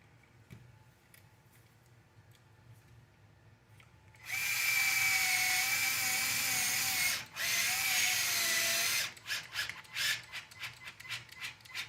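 A power drill driving screws into a radio tray assembly whirs loudly for several seconds, briefly stops, then runs again before cutting off, followed by scattered clicks and handling noises.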